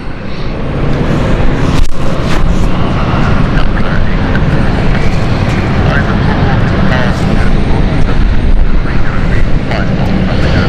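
A jet airliner at London City Airport roars steadily and loudly throughout as a constant broadband engine noise, with someone talking over it.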